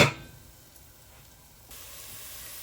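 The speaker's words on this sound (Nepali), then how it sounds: "यसलाई चाहिँ छोप्दै चलाउँदै मजाले पाकिँदै भुट्नु पर्दछ।" Potatoes and soybeans sizzle softly in a pan while being stirred and covered, a steady faint hiss of frying with no talking.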